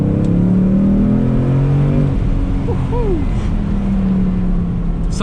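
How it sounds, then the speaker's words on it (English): A 2019 Ford Mustang Bullitt with a new loud exhaust system, in track mode, revs up and settles, its deep engine note rising and falling loud and close throughout. "this car has a new exhaust system, and I can tell you that it's really loud"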